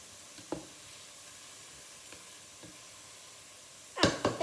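Butter and mushrooms frying in a pan for garlic mushrooms, giving a low steady sizzle with a few soft stirring knocks and a louder burst of crackling near the end.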